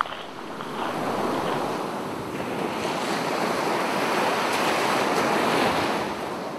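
Ocean surf rolls and hisses continuously out at sea, heard as a broad, loud wash of waves and wind buffeting the microphone, with no voices.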